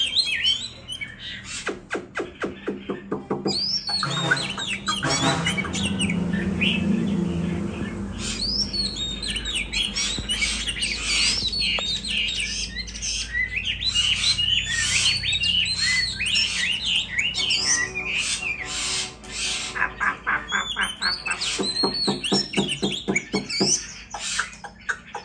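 A Chinese hwamei (họa mi) songbird sings loudly and nonstop at close range. It pours out varied whistles, rapid chirps and trills in long, shifting phrases.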